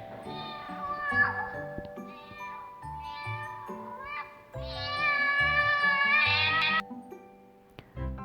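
A cat meows repeatedly in a series of drawn-out, pitch-bending calls, some rising and longer, close and clear with no talking.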